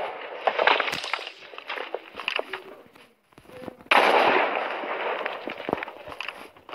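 Dense crackling bursts and pops of explosions in Minecraft Pocket Edition, continuous and noisy, dropping briefly before a loud new burst resumes.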